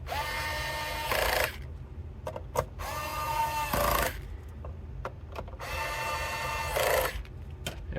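A torque screwdriver with a PH2 bit driving screws into an original Xbox DVD drive, with repeated whirring, rubbing runs broken by brief clicks, close and fairly loud.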